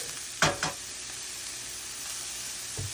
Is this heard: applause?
no